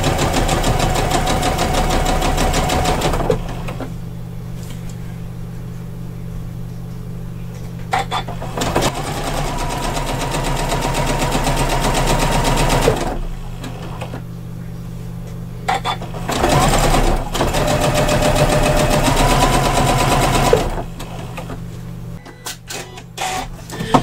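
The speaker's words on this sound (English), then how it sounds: "And all we're going to do is stitch that" A sewing machine stitches down a bag handle in long continuous runs with brief pauses between passes, its motor hum steady and fairly loud throughout.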